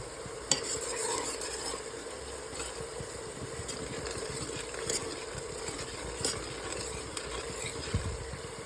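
Tomatoes fry in oil while a spoon stirs them through, giving a steady soft sizzle with a few light scraping knocks and no voices.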